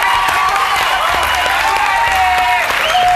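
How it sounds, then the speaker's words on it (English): A crowd applauds loudly and steadily, dense clapping filling the whole stretch, with some voices and cheers mixed in. "Round of applause"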